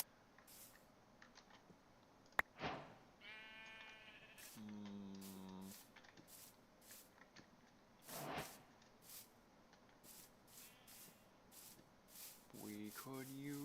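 A gray sheep in Minecraft bleats several times at moderate distance, with short wavering calls scattered between soft footstep scuffs and block sounds.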